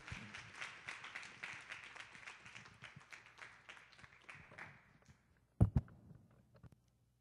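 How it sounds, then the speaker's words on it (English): A church audience claps and applauds to welcome a pastor on a Friday night, a dense patter of hands that fades out, followed by a few sharp louder knocks. "let's put our hands together"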